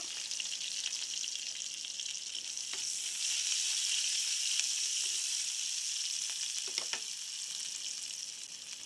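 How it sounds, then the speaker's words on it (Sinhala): Mustard seeds and curry leaves fry in hot oil, giving a bright, continuous sizzle with scattered popping and crackling bursts. The sound is close and steady with no talking. "හොඳට තෙල් ටික රත් වෙන්න අරින්න. අබ ටිකක් එකතු කරගන්න."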